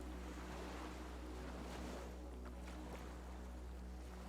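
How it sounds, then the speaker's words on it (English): Waves lap steadily around a small skiff tied at a dock in the game Disco Elysium, with continuous water wash and a low rumble like wind. The sound stays even and unbroken, and no one speaks. "skiff is swaying on the waves by the dock."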